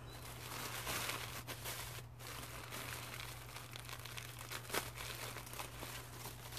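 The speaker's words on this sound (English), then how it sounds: "I probably should have done a different kit because I already wrapped this one up, but that's okay. We're going to unwrap it." Tissue paper being unwrapped from a kit of vintage, gifted and thrifted fabrics and trims, with steady close crinkling and rustling throughout, a few sharper crackles, and no talk.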